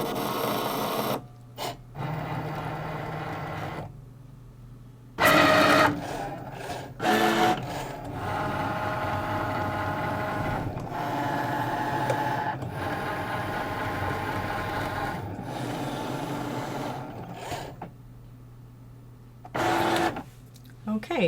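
Electronic craft cutting machine driving a fine tip blade through card, a steady close mechanical whir with stepping motor bursts and carriage moves, stopping and restarting in short pauses.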